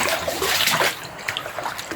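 Rain dripping into water outdoors on a rainy day, steady close patter and splashing drops with brighter individual plinks scattered throughout, no voices.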